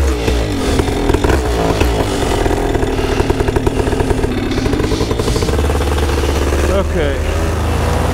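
Paramotor trike engine throttling up, a loud close propeller-engine roar with a rattling, buzzing beat that holds steady and then deepens as power builds, with a voice faintly over it.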